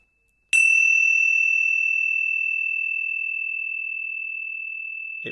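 A meditation bell struck once, its clear sustained tone ringing out alone and fading slowly over several seconds, with a soft rustle near the end.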